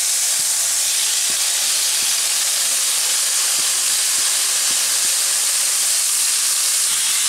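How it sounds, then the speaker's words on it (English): Prawns frying in olive oil in a hot pan give a steady, fairly loud hiss and sizzle that holds throughout, with a few faint taps and knocks underneath. "So you're gonna cook off the prawns for a couple of minutes."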